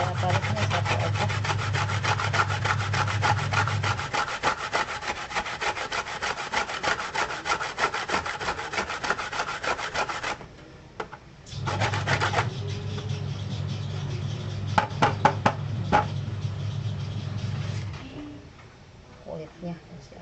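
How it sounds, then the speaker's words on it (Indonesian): Ingredients for lontong sayur are grated by hand, giving repeated close rasping strokes in a quick steady rhythm that pause briefly midway and then resume, with a low hum underneath during parts. "Kita parut dua, tapi saya parutnya satu aja."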